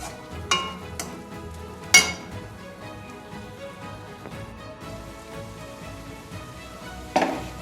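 Mung dal being lightly fried and stirred in a pan, a soft crackling sizzle with a few sharp scraping strokes of the spoon spread through, close and moderately loud, no talking.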